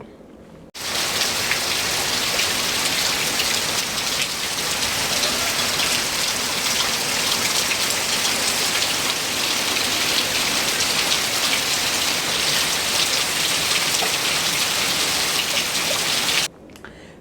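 Heavy, continuous rain from Cyclone Fengal pours down as a dense, loud, unbroken roar of drops on surfaces, starting abruptly and holding steady throughout.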